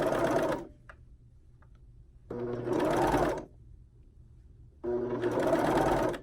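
Sewing machine stitching three layers of stretch fabric for jogger pockets, running in three steady bursts separated by short quiet pauses, close and clear with no talk.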